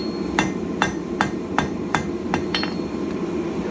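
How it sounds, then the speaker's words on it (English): Sharp metallic hammer blows strike the corners of hot steel at a steady, even pace, about eight clear hits, ringing over a low background hum. "we're going to make octagonal kind of shape here by hammering in the corners"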